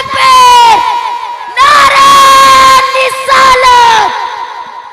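A crowd at a naat gathering in Jaunpur roars a chanted reply to the Nara-e-Takbeer call in three loud, drawn-out bursts of many voices, with short pauses between them.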